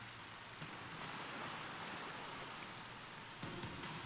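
Steady rain weather from the Pokemon Scarlet/Violet video game, a constant soft hiss of falling drops with no breaks, even and moderately faint throughout.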